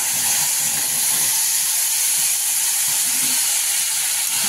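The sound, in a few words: onion-tomato gravy sizzling as it is added to the pan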